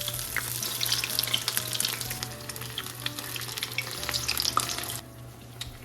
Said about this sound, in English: get a strip of fish, dip into the batter mix and onto the pan